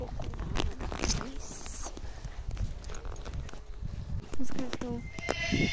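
A horse at a stable whinnies amid the clip-clop of hooves and rustling handling noises, moderately close, while people talk over it.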